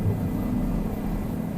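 Bell 407 helicopter in flight on a New York tour, heard from inside as a steady, loud low rumble and rotor drone that stays constant throughout with no talk.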